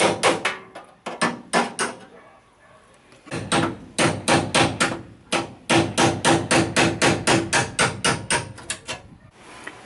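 Repeated metal hammer blows on the original fender's folded edge of a 1948 Kombi as it is pried off, loud and close, in irregular bursts of rapid strikes with short pauses between.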